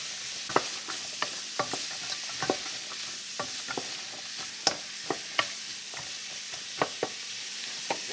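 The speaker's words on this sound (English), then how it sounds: "Stir it up, get it all nice and coated on up in that. We're going to let this kind of start sweating." Vegetables for turkey noodle soup are stirred in a pot, with a soft sizzle underneath and a series of sharp spoon scrapes and clacks at irregular intervals; no voices.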